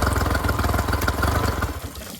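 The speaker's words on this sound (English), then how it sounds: "What an absolutely beautiful engine this is" A Honda BF35–BF45 outboard motor runs close by after a carburetor install, a steady rhythmic idle that chugs evenly, then fades as it winds down near the end.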